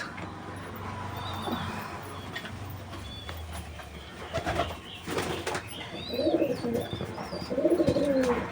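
Giribaz pigeons cooing inside their loft room, soft repeated coos rising toward the end over a low background hum, with a few faint chirps and wing flutters nearby.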